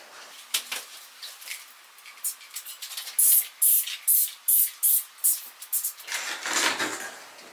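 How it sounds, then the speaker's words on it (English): Viakal cleaning spray is squirted onto bathroom metal fittings in a run of sharp, close hissing bursts, followed by softer rustling handling sounds. "I'm gonna be spraying down the metal parts with the Viacal spray."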